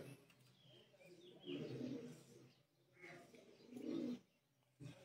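Soft pigeon cooing in low, throaty bursts, repeated a few times with pauses between, fairly close.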